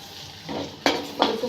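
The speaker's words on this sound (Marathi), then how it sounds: "काही सेकंदासाठी परतून घ्यायचा आहे" Chopped onion and a green chilli sautéing in butter in a kadai over low heat, a soft sizzle broken by a few sharp scrapes of the stirring spoon against the pan.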